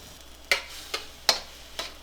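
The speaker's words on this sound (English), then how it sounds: "You don't want to stop stirring" Vegetables stirred in a pan with a utensil, giving four or five sharp clicks and scrapes spaced roughly half a second apart over a faint steady background, with no talking.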